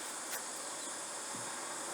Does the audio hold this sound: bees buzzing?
yes